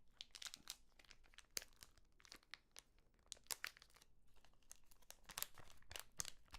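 Close-up crinkling and tearing of plastic packaging of press-on nails by hand, a continuous run of crackles and rips with no talking.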